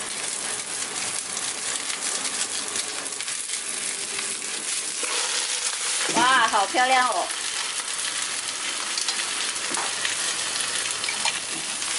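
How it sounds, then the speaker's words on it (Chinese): Eggs fry in a pan with chinese cabbage, giving a steady close sizzle throughout, and a woman briefly exclaims in the middle. "煎至差不多的时候，我们可以翻面了"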